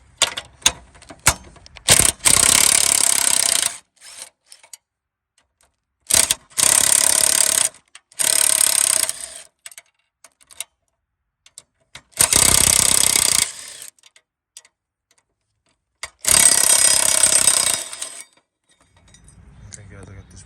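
A ratchet loosening 5/16 bolts on the fender brace brackets of a Ford Mustang II with T-tops, several bursts of rapid close clicking separated by pauses, with a few metallic clinks in between.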